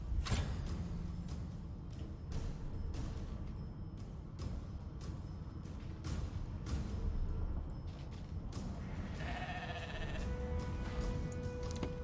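Sheep bleat repeatedly in the video game Divinity: Original Sin 2 – Definitive Edition, over a busy background of clicks and rumbling, the calls loud and close with short gaps between them.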